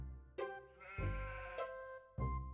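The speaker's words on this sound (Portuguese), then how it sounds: "Examinar essa ovelha com o olho do mal." Several sheep bleats in the Harvester video game, three or four loud, close, wavering calls in quick succession with no talking over them.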